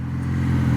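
A two-cylinder motorcycle engine idles close by, a steady low throbbing hum with a rough, even pulse heard alone for a brief moment.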